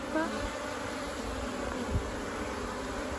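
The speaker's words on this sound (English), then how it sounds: "That's pretty good action happening there at the entrance of the hive." Honey bees buzz around the entrance of a backyard hive in Australia, a steady close insect drone with a few louder passes as bees fly near, no speech.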